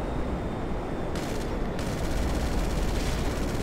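Rocket fire in Grand Theft Auto V, heard as a dense, continuous roar of overlapping blasts with a sharp louder burst partway through. The launches and explosions stay close and loud the whole way, with no talking over them.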